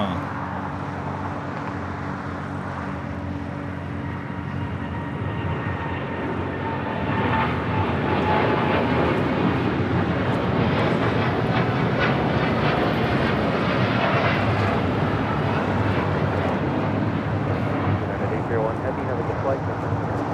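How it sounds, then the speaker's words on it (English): A United Airlines Boeing 787-9 Dreamliner takes off from LAX, its jet roar swelling from a distant rumble to a loud, steady wash of engine noise, with people chatting nearby. "This is United Airlines 801 taking off to Hong Kong on a 787-9 Dreamliner."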